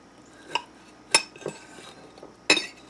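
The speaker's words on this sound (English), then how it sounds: "When you cut this, you're going to cut right through that dippy egg" A knife cuts through a breakfast flatbread pizza topped with basil and a runny egg, with a few sharp, close clinks against the plate spaced apart in a quiet kitchen.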